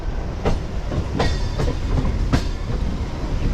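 MEMU passenger train running on the Rajahmundry to Vijayawada route, with a steady rumble of rail travel and periodic clickety-clack wheel beats on the track, heard from on board with no talking.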